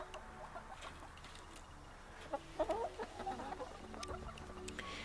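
Chickens clucking close by in a garden, soft scattered clucks over a quiet outdoor background, faint and intermittent.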